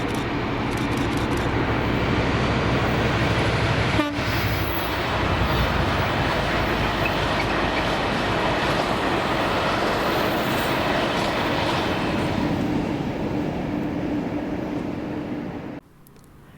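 A Class 56 locomotive, 56105, hauls a freight train of empty aviation fuel tanks past in a loud, sustained rumble with wagon clatter, cutting off sharply near the end.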